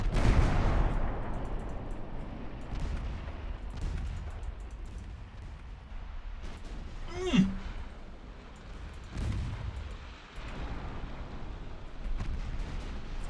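Naval combat in Ultimate Admiral: Dreadnoughts, with a torpedo attack and ship gunfire: several deep booming blasts and rumbling impacts spread across the stretch, one sharp rising whistle-like burst in the middle, and a low continuous battle rumble underneath.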